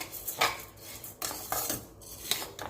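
A spoon stirs a dry premix of green gram and matta rice as it roasts in a metal pan: rhythmic scraping strokes, close and fairly loud, with no voices.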